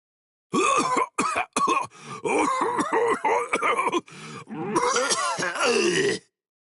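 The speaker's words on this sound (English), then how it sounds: "how long you gonna cough?" A person coughs and groans repeatedly in harsh, strained bursts, close up and loud, with brief pauses between fits.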